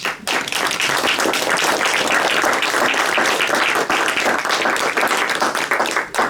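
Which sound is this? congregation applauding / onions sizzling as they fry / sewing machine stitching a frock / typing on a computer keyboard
congregation applauding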